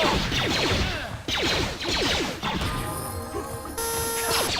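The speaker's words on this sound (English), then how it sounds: "That red ghoul just crashed." Loud, dense crashing and smashing from the Star Wars: Knights of the Old Republic video game as a red ghoul crashes, in repeated heavy bursts, then a tonal electronic hum toward the end.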